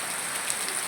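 Hail pelting down outdoors, a steady dense patter of ice pellets striking surfaces, with a few sharper ticks over a constant hiss, moderately loud and without voices.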